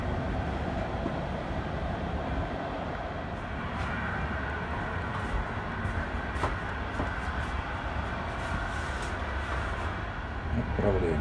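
Steady low rumble and rattle of a commuter train departing a station toward Paris, continuous and even throughout, with faint clicks and a slight swell near the end.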